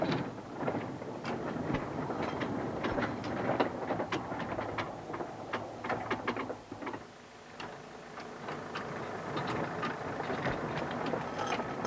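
A 1974 Clayton battery electric narrow gauge locomotive on 2 ft 3 in track runs at slate quarries, giving a steady mechanical rumble with repeated clanks and rattles of wagons throughout, heard alone with some wind noise.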